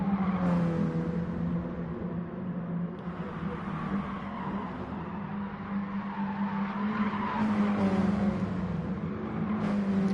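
Mini Cooper tyres squealing through the turns of Suzuka East Circuit in a racing game, a sustained whining screech over a steady engine drone, swelling and easing with each corner.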